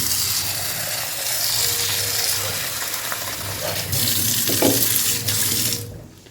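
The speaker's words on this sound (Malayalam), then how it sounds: "കുറച്ച് വെള്ളം ഒഴിച്ച് കുതിരാനിടാം." Water runs from a tap into a bowl of grains set to soak, a steady close splashing stream that continues for several seconds before cutting off abruptly.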